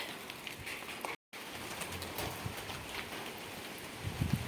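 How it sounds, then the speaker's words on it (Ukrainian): Heavy, very large raindrops falling outdoors over a garden before hail, a dense patter of drops with scattered louder hits and a brief dropout, no talking. "Це поки що не град але краплі дуже крупні, дуже."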